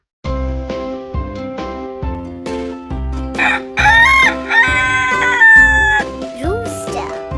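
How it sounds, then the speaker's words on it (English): A rooster crows loudly several times in a row, its drawn-out calls rising and breaking, backed by bright farm-themed music with a steady beat. "Rooster."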